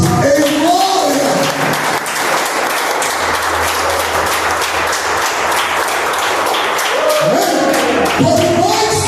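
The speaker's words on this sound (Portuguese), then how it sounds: "Aplauda o nome de Jesus" A church congregation applauds loudly and continuously during a sermon. A preacher's voice is heard at the start and end, with the clapping carrying on between.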